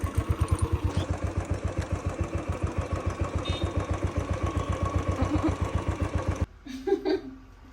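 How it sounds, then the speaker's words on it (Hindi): A motorcycle engine idles close by in a steady, rapid putter, then cuts off near the end, leaving quieter background noise. "अभी बाइक में जाएंगे"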